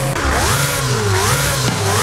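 A hybrid 6.2-litre V12 Ferrari engine revs in a video game, its pitch rising and falling in smooth sweeps as it accelerates, loud and continuous.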